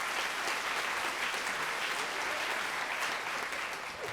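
A live DC audience claps loudly and continuously, many hands blending into a thick, unbroken patter that stays strong and holds to the end.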